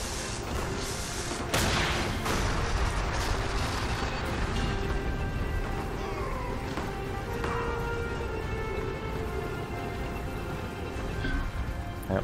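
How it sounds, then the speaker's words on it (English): Tanks firing in the strategy video game Rise of Legends, a dense, loud battle of repeated booms and crashing gunfire over a continuous rumbling din, with no talking. "I need to keep rolling on these guys with my tanks now."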